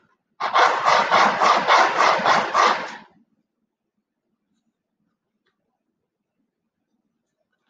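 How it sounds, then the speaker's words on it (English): A small wooden part of a Midwest Products dollhouse kit gets a quick sanding: about eight fast, close back-and-forth strokes in a steady rhythm, followed by silence. "but just needs a tiny sanding."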